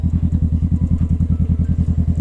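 Honda CB500F motorcycle engine running steadily up close with a loud, low, rapidly pulsing exhaust throb and no voices.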